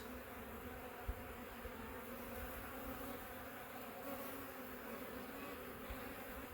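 A dense, steady hum of many honey bees buzzing inside a hive, close and continuous, with a few faint bumps.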